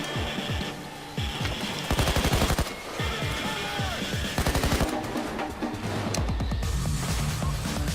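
Rapid, overlapping gunfire from the video game PAYDAY 2, with dense bursts of automatic shots and single cracks filling the whole stretch at steady, loud volume.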